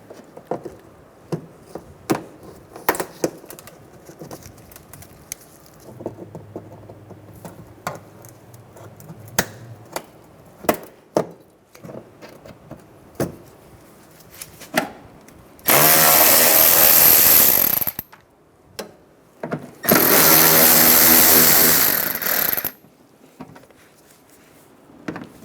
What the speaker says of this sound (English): Going to use some clip pliers.